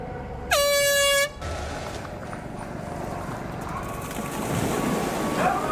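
Loud air horn signalling the start of the Dubai T100 women's race, one sustained blast of under a second, followed by open outdoor ambience with distant crowd and water noise.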